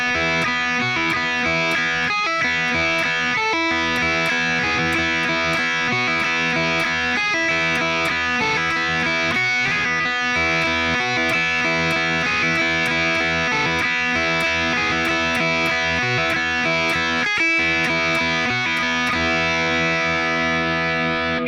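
Distorted electric guitar plays an outro riff, a chugging punk riff with steady palm-muted rhythm and brief breaks, loud and saturated through effects, running alone for about twenty seconds.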